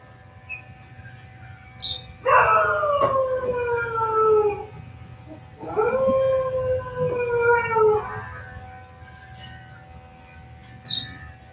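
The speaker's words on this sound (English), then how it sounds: "whether the dog or any other noise settles or not" A dog howls in two long, wavering, rising-then-falling calls during a quiet meditation session, with faint chirps and a low steady hum in the background.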